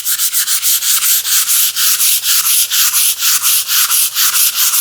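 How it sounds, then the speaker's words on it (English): Hand sanding of wood with sandpaper on a TV unit build, a steady run of rhythmic rasping strokes, roughly four or five per second, close and loud with no voices. "ease off that with sandpaper."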